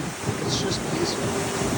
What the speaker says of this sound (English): you would just enjoy hearing some waves crash here in the Caribbean Sea